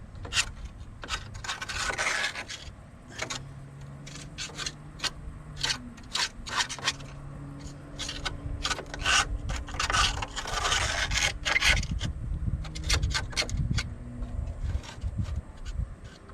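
Scraping dirt out of a car's rear brake drum: continuous gritty rubbing and rasping at close range, with repeated sharp scrape strokes and a low rumble underneath, with no voices.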